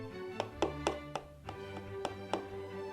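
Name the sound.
tapping on a hair dryer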